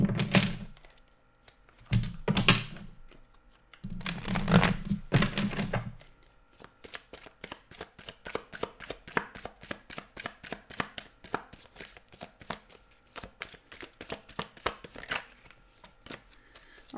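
Tarot cards being cut and shuffled during a live reading: a few heavy thumps at the start give way to a long, rapid run of crisp card riffles and flicks, close and fairly quiet, with no talking.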